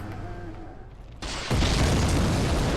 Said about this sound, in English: A friendly explosion